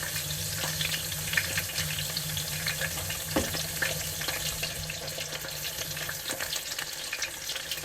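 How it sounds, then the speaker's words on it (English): Tap water runs into a kitchen sink as hands are washed after handling raw chicken, a steady close rushing hiss with a few soft splashes and clatters throughout. "I'm going to wash my hands."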